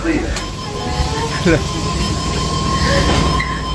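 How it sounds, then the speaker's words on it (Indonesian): A train in Australia rumbles along the rails with a steady low roar and occasional squeals, while voices talk over the noise nearby. "Kita satu kereta api nih"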